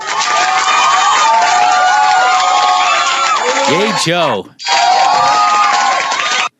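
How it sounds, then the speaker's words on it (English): Loud recorded studio-audience crowd cheering and whooping, in the style of a talk-show audience, filling the clip almost continuously with a brief dropout near the end, with a voice calling out over it. "the cheering we've been using for the past Luck of the Draw radio shows was something I stole from Oprah"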